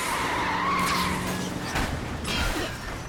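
A car in the L.A. Noire video game skids with a long tire squeal as it is rammed and spun out during a chase, loud and close, with engine noise and a crunching impact near the end.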